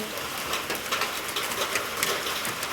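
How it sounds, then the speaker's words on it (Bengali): Hail falling from a clear sky, a dense, steady patter of pellets striking surfaces, loud and continuous with no voices. "আকাশে মেঘ নেই, কিন্তু শুধু শিলাবৃষ্টি"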